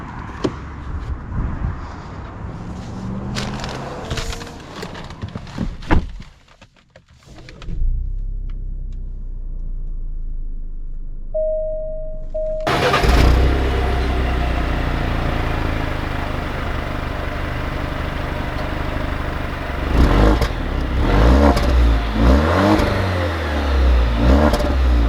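A 2020 Alfa Romeo Giulia Sport starting up and pulling away, with a quiet cabin interval, then a loud engine rumble that rises and revs repeatedly as the car accelerates, heard from close by.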